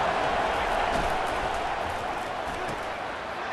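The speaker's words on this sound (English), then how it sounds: "It is getting loud as this crowd tries to help its defense." A large stadium crowd roars loudly and steadily throughout a college football game in EA Sports College Football 25, with Clemson visiting Alabama, as fans make noise to help their defense.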